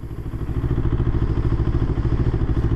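A 2025 Moto Morini Calibro 700 bagger motorcycle rumbles steadily while riding, with a dense low engine drone and rapid pulsing, loud and close, with no voices.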